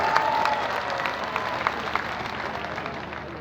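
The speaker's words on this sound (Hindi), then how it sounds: "एक बार जोरदार तालियां बजा दो" Applause from an audience at a festival opening, a steady patter of many hands clapping that stays fairly even and gradually eases, with no voices over it.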